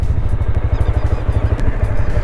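A motorbike engine rumbles steadily close by in a steady low pulse while being brought to a stop and parked at Thokarwadi Dam, with no talk.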